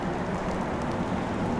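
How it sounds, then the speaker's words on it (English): Heavy rain pours down as a dense, steady hiss that stays unbroken and fairly loud throughout, with no voices. "Now it's kind of raining hard."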